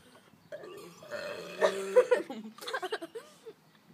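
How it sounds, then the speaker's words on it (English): A single close, loud burp right after gulping a sour drink during a challenge, a low guttural belch lasting over a second, followed by brief laughing and chuckling. "I just had a sick burp."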